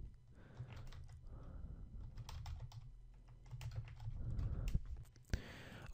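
Text typed on a computer keyboard, bursts of close, quiet key clicks with short pauses between runs.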